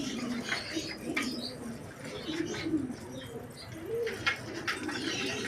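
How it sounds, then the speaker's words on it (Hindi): Pigeons, a group of domestic home birds, coo softly and shuffle around close by, a steady murmur of low cooing with faint chirps and rustling over continuous background noise. "कुछ कबूतर अलग से घूम रहे हैं, देख सकते हैं।"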